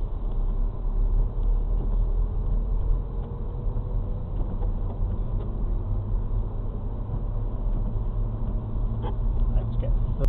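Car accelerating in second gear on a snowy road, heard from inside as a steady low engine and road rumble, with a faint rising engine tone and no talk.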